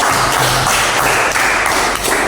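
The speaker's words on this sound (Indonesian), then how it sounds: "Tepuk tangan dulu." A classroom of students claps together in a dense, continuous burst of hand claps lasting the whole moment, loud and close, with no talk over it.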